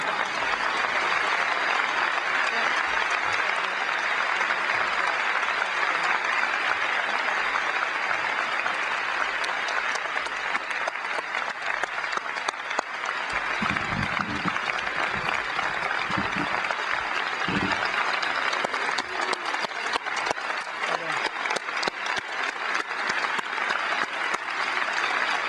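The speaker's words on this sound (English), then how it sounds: "You can applaud now." An audience at a 2006 university freshman convocation applauds at length, a dense, sustained roar of clapping that holds steady for about twenty-five seconds, with some scattered louder claps and faint low murmurs partway through.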